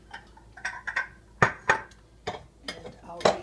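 Bowls and dishes clatter in a home kitchen while a bigger mixing bowl is fetched for beating eggs with milk, a run of sharp ceramic knocks and clinks at irregular intervals, close and fairly loud.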